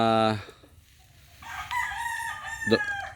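A rooster crows loudly and close by at a gamecock farm, one long harmonic call at the start, followed by quieter clucks and further fowl calls from the surrounding birds.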